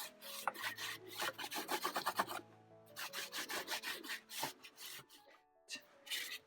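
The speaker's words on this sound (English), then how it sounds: "I'm going to take a baby wipe and just kind of distress it and pull some of it back." A baby wipe rubbed over a painted surface to distress fresh paint and pull some of it back, giving repeated close scrubbing and rasping strokes in short bursts with a brief pause midway.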